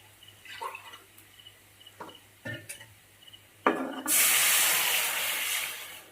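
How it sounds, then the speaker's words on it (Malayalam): Water is poured into a hot cooking pan of fried crushed garlic and shallots, first a few light clinks and a gurgle, then a sudden loud, sustained hiss and sizzle that fills the rest of the clip. "നമുക്ക് അതിലോട്ട് വെള്ളം ഒഴിക്കാം."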